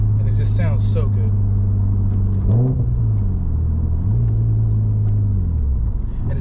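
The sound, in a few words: Nissan Skyline R33 GTS RB25 non-turbo straight-six engine running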